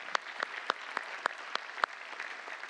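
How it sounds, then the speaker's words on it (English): Faint, distant applause from an audience at a closing session, with a handful of distinct claps at an even pace over a quiet wash of scattered clapping. "Another applause for Arati"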